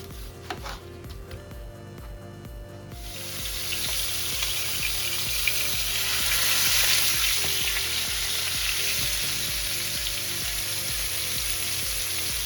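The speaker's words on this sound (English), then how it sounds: "We're cooking some rack of lamb right now." A rack of lamb sizzles steadily in a hot pan, a dense, continuous frying hiss that swells slightly midway, with a rhythmic low background pulse beneath and no talk.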